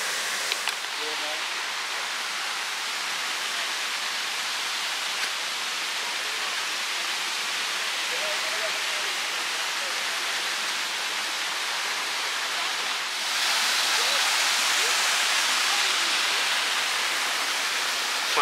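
Turga Waterfall in Purulia roars as a steady, dense rush of falling water, constant throughout and growing a little louder near the end.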